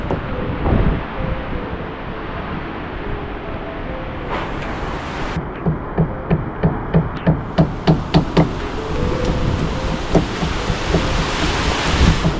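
Typhoon flood water pouring into a house makes a loud, continuous rushing wash with wind-like roar, broken midway by a run of rhythmic knocking thuds.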